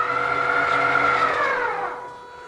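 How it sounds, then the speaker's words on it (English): Gearbox of a rideable quadruped robot running at half speed, a steady labouring whine with a rising then falling pitch, close and continuous before fading slightly at the end. "I can hear the gearbox labouring slightly, but I'm really only running this on half speed."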